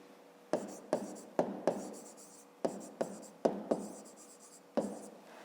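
Pen strokes on paper while working a fifth-grade maths exercise: a handful of short, crisp scratches and taps in irregular bursts, close and fairly quiet against a silent room.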